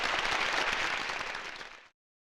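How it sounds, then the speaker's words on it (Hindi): An audience at a sermon breaks into applause, a dense burst of clapping that holds steady for almost two seconds and then cuts off sharply into silence. "यदि आप चाहे तो ताली बजा सकते हैं।"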